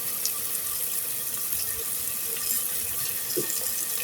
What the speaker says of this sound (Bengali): এখন আমি দিয়ে দিব হচ্ছে হালকা একটু পানি